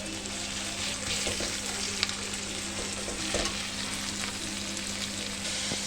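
Ginger-garlic paste fries in oil with onion for a yogurt-based rohu (doi katla) curry, giving a steady broadband sizzle throughout with occasional stirring scrapes and small pops, close and moderately loud, with no talking.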